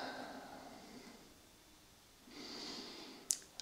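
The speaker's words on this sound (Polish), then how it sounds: "Weźmy na początek parę oddechów." Slow, soft breathing during a guided relaxation, with a deep inhale and exhale followed by a couple of faint snort-like clicks, quiet and close.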